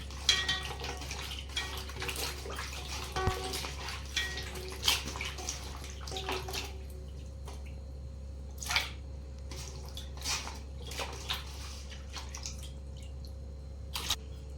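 Water sloshes and drips in a bowl as mango seed kernels are rinsed by hand, with occasional soft knocks against the container, no voices.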